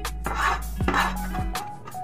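Garlic being minced for garlic rice produces a quick series of knife taps and scraping chops on a board with clinking kitchen noise, close and moderately loud.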